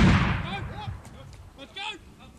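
A grenade goes off during combat in Afghanistan, a heavy blast at the very start that decays into rumble, followed by shouted voices nearby.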